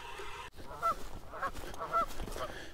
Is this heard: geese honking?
yes